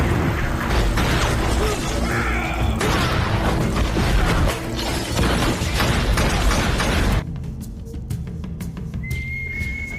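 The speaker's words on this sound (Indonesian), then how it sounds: "Terjadilah saling tembak di tempat itu." Gunfire exchange in a cowboy action film: dense, loud bursts of shots and impacts blended with music and effects, with a distant whistling tone near the end.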